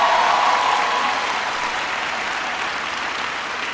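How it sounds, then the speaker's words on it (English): An audience at the University of the West Indies in Jamaica applauds with steady, dense clapping that is loud at first and eases slightly, with no talking over it. "give Aubrey a big round of applause for the great introduction"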